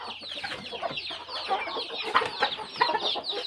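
Gamecock chickens on a breeding farm cluck and squawk in busy overlapping bursts, close by and moderately loud, with no other sounds.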